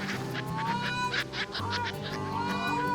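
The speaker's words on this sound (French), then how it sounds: "Les pélicans frisés sont des oiseaux hors du commun." Loud, continuous honking calls from a group of Dalmatian pelicans, harsh and overlapping, close by.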